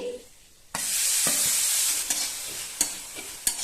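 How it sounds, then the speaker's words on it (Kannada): Finely chopped onions hit hot oil in a pan for a drumstick gojju, bursting into a loud, continuous sizzle with a few sharp scraping stirs of a spatula on the pan. "ಈರುಳ್ಳಿ ಚೆನ್ನಾಗಿ ಫ್ರೈ ಆಗಲಿ"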